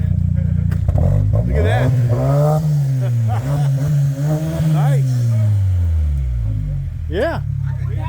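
Santa Cruz pickup with aftermarket Hot Tamale exhaust revs repeatedly, engine pitch swelling and falling in several blips close by, while people talk briefly over it.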